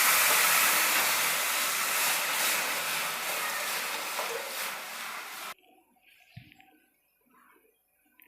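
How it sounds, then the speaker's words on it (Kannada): Tamarind and tomato juice poured into a hot pan for rasam sets off a loud, steady sizzling hiss that fades slightly, then cuts off abruptly, leaving quiet kitchen sounds. "ಹುಣಸೆಹಣ್ಣು ಮತ್ತು ಟೊಮೆಟೊ ರಸನ ಸೇರಿಸ್ತಾ ಇದ್ದೀನಿ"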